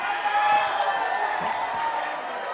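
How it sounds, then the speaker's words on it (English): Crowd at a tag-team wrestling match in Abilene cheering and roaring steadily in a dense, continuous wash of noise. "And the Abilene crowd is on fire."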